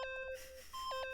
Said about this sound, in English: What's this beeping?